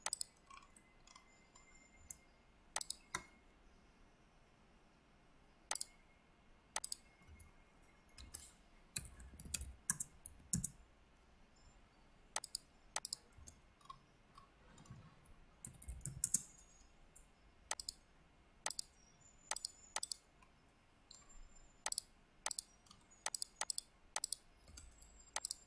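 Computer mouse clicks while drafting a bottle jack assembly in AutoCAD, sharp isolated clicks spaced irregularly and then quickening into rapid runs over a quiet room background.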